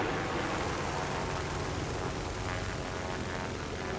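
An enemy tank engine in the War Thunder video game gives a loud, steady, rough rumbling drone that holds without a break for the whole stretch.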